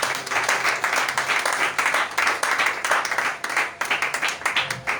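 A church congregation at a worship service applauds Jesus with sustained, irregular clapping in a reverberant hall. The clapping comes in pulsing bursts and is accompanied by faint background voices.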